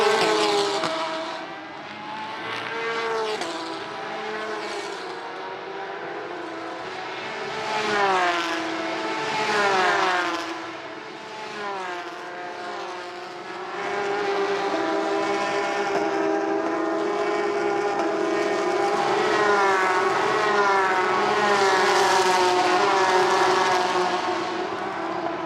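Porsche Carrera Cup race cars at Imola, two cars from the same team running close together, their engines rising and falling through gear changes, with a steady loud, sustained roar throughout.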